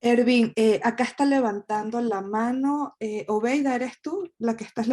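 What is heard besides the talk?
No everyday noises stand out.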